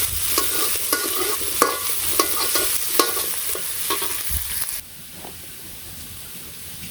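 Potatoes and onions frying in a pan in a village kitchen, with a steady sizzle broken by rhythmic scraping strokes of a spatula that stop partway through, leaving a quieter hiss.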